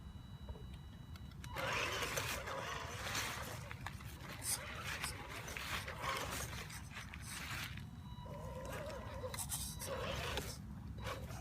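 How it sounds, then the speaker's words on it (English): A truck pulling off the road onto an off-road trail for its first run, with a steady close engine rumble, rough broadband noise and scattered rattles throughout. "So we'll get the truck into the trail so we can give it its first little run."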